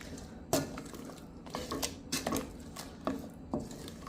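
Salt and white beans stirred together in a bowl, giving irregular, close clinks and scrapes of a utensil against the bowl with soft wet shifting between them.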